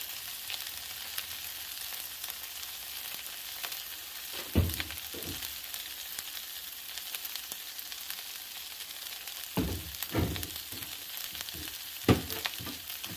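Stuffed hashbrowns fry on a Blackstone flat-top griddle, giving a steady broad sizzle throughout with a few louder scraping or spatula knocks near the middle and end.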